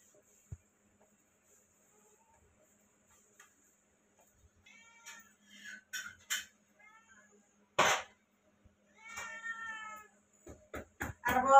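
A house cat meows repeatedly in a home kitchen while bhakri flatbread is roasted. Quiet at first, then several clear, drawn-out meows come in close succession near the microphone, ending in a rapid burst of short cries.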